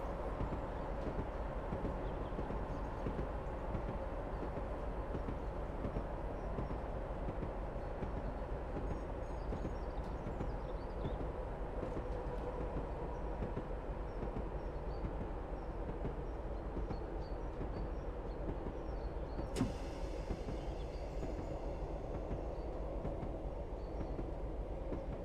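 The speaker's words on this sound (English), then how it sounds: "it was like there was a train passing us" A train rumbles past in Train Simulator Classic on the Huddersfield Line between Manchester and Leeds, a steady low roar with rhythmic rail noise running throughout, plus a sharp bright burst near the end.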